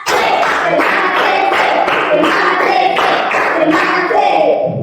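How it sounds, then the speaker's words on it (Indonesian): Students standing in a physical education class clap out rhythmic spirit claps together, loud and close, in repeated bursts that fill the whole stretch without pause. "Tiga kali tepuk semangat."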